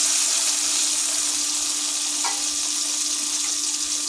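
Garlic frying in a pan for a Bengali fish dish, with a steady, fairly quiet sizzle throughout and a brief scrape of stirring midway, with no talk.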